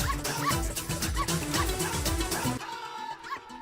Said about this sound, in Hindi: अरे कोई बचाओ भैया, इस कुत्ते से बचाओ।